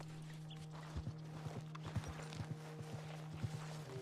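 Horse hooves clip-clop at a steady walking pace in Red Dead Redemption 2, a string of soft, evenly spaced hoof strikes over a constant low drone.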